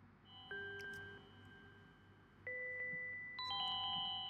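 Bright chime tones ring out in a music beat, clear sustained bell-like notes entering in staggered steps over a soft low rhythmic backing, with no voices.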